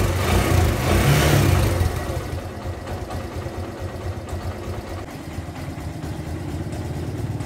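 Kawasaki Barako 2 motorcycle engine catching and revving briefly, then dropping to a steady, even idle putter that carries on close by.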